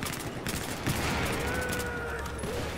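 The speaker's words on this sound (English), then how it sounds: "They're just tossing grenades." Grenade explosions in the multiplayer shooter Battlefield 4, several rough bursts piling up over a loud, continuous battlefield din with no break in the noise.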